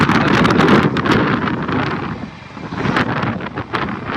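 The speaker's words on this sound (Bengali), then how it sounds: "হাওয়া হচ্ছে ভাই হেবি সুন্দর ভাই" Strong wind roars steadily across the microphone, gusting and buffeting in loud broadband rushes with no voices.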